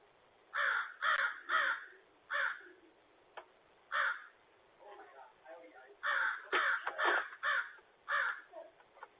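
A crow caws loudly at a coyote, giving repeated harsh calls in short bursts, several in quick succession, separated by brief pauses, with no other voices.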